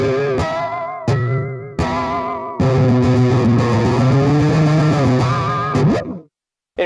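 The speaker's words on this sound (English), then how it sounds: "This one's called Whammy, and check this out." SlapStick N-100 electric percussion played through its Whammy effect, giving loud distorted, pitch-bending tones in several sustained bursts that swoop and waver before cutting off near the end.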